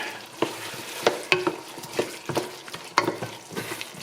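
Chicken and sweet potato red curry simmering in a pan on low heat while being stirred, with repeated distinct spoon clacks and scrapes over a soft bubbling sizzle, close and clear with no talking.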